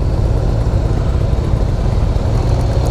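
A 2017 Harley-Davidson CVO Breakout motorcycle engine runs steadily and loud up close, a dense low rumble that holds without a break for the whole stretch, with no voices over it.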